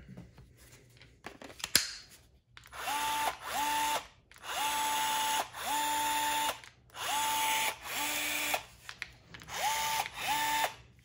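A Milwaukee M12 cordless rivet gun pulling rivet mandrels, seven or eight short bursts of motor whine, each rising then holding a steady pitch for about a second before cutting off, with a sharp click just before the first one.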